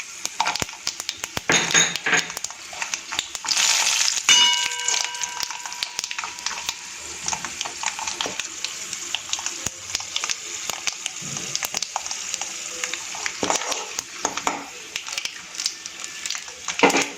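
Cashews hit hot oil in a pan while making lemon rice, giving a close sizzle and crackle with sharp bursts of clinking and crunching that settle into a quieter steady fry.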